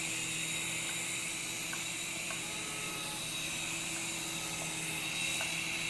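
A small 2.4 GHz remote-control toy helicopter hovers and flies nearby, giving a steady, high, whiny buzz of spinning rotors and motor that holds even throughout, with no talking.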